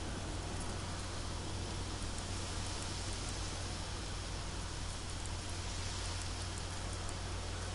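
Steady rain hisses as a dense, unbroken wash of noise in a dark, debris-strewn area of a survival shooter game, with no talk and no change in intensity throughout.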